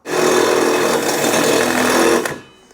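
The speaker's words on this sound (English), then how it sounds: "what I have here is a step bit on the end of my drill" A loud, steady drill with a step bit grinds through metal for a couple of seconds, then spins down and stops.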